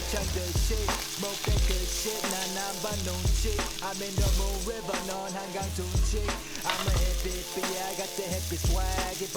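Meat and vegetables for japchae sizzle and stir-fry in a pan, a steady close hiss broken by regular scrapes and knocks of a utensil stirring, with no talk.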